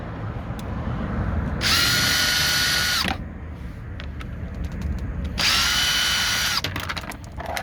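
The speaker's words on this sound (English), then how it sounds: "now that I changed the tip of my power tool, I'm gonna take it out" A power drill whirs in two bursts of about one and a half seconds each, removing license plate bracket screws on a 2003 Ford Expedition XLT, separated by a pause with faint clicks and handling noise.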